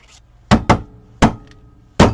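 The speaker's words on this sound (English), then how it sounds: "my punch here is sticking, so I have to kind of hammer it on the table." A sticking paper punch is banged down on a table in four sharp, loud thumps: two in quick succession, then a pause, then two more spaced apart, with quiet gaps between.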